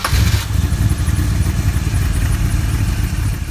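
1965 Corvette Sting Ray with a 327 cubic inch Chevy V8, four-speed manual and side exhaust, rumbling loud and steady in a deep, lumpy burble close by, without voices.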